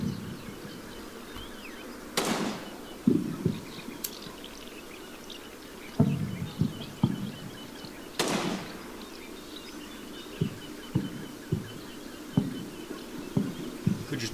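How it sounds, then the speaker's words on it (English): Scattered small-arms fire in Combat Mission Normandy, a few sharp distant cracks and thuds spaced irregularly over a quiet background. "Oh, we're taking fire."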